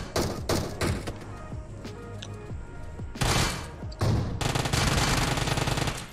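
Gunfire in PUBG Mobile, with short sharp bursts of shots early on, a lull, then loud sustained automatic fire near the end, no talking over it.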